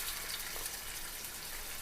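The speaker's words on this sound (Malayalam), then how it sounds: "അപ്പോൾ ഇത് വറുക്കാൻ പോവാണ്." Salted vatta fish frying in a pan gives off a steady, even sizzle and crackle close by, with no talking.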